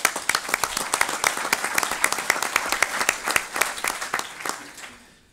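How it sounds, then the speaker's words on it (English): A conference audience claps for the panel organizers, a dense burst of many hands applauding steadily for about five seconds before thinning and fading out. "I think they need a round of applause"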